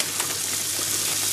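Fresh spinach hits a hot pan of slightly scorched cooked chickpeas and gives a steady, loud, close hissing sizzle throughout, with no voices.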